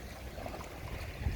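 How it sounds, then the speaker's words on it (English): Water of the St Clair River slapping against shoreline rocks on a very windy day, a steady low wash of lapping and surging with a stronger splash near the end, mixed with wind rumble. "I love the sound of the water hitting the rocks"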